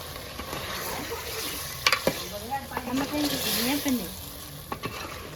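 Palva fish pieces frying in a pan with a soft, steady sizzle, broken by a few sharp scraping clinks of stirring and faint voices in the background.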